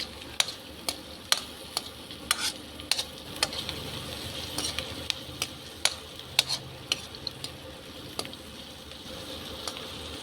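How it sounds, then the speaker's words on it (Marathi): Onion, garlic, coriander, chillies, cumin and peanuts frying in oil for poha, giving a soft continuous sizzle with regular sharp clicks and taps of stirring, close and alone without voices. "कांदा, लसूण, कोथिंबीर, मिरच्या, जिरे, शेंगदाणे असं मस्त तेल सुटलं आहे. फ्राय होत आहेत."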